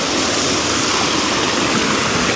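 Water rushes steadily through a river channel at night, a close, continuous broadband roar with no breaks and no voices.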